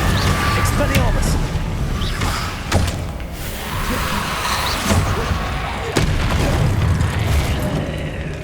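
Expelliarmus spell cast in the video game Hogwarts Legacy, a loud ongoing mix of booming impacts, thuds and sharp cracks over dense game background, with voices mixed in.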